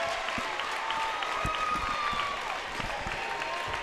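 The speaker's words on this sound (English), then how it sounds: "And the crowd here celebrates, and well, they should. And a standing ovation." A basketball crowd in a school gym gives a standing ovation, with dense clapping and cheering filling the space and a squeaky high tone running through it.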